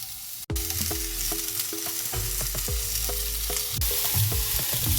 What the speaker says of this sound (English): I'm gonna heat up my skillet, and into it goes the vegetables